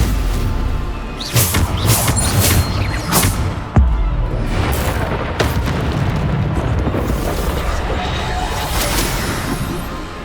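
Heavy magical blasts of the Bombarda spell in the video game Hogwarts Legacy: several loud booming explosions at irregular intervals, close and forceful, over a continuous bed of combat noise.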